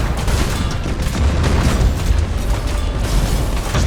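Thunderhawk bombardment in the space battle game Battlefleet Gothic: Armada 2, a continuous loud barrage of overlapping booms and blasts rolling on without pause, heavy and dense, with no voices.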